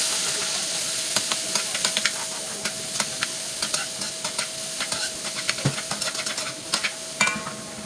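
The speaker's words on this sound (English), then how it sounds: "you're gonna add your peppers and your onions to saute in there" Peppers and onions sautéing in hot oil in a pot, a constant close sizzle with rapid crackles and pops scattered throughout, no voices.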